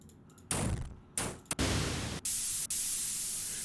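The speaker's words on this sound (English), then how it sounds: "This is a really clean white noise." White noise generated in music production software plays in several bursts, loud flat hiss switching on and off abruptly with short gaps between.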